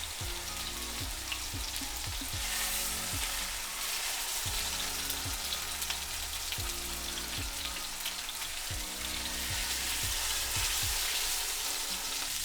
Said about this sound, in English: now that we have our meat seared, which is honestly the hardest part